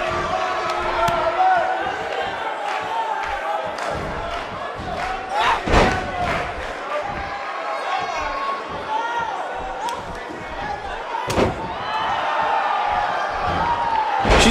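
A large crowd at a Grand Prix Edge event in Miami roars and cheers continuously. The noise stays loud and dense from start to finish, with sharp thumps and shouts rising out of it.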